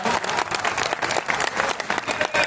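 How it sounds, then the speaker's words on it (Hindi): Loud, dense audience applause fills a Hindi poetry gathering (kavi sammelan), continuous and close-sounding for its full length with no break. "जरा जोरदार तालियां बजा के बताओ कि कवि सम्मेलन शुरू किया जाए"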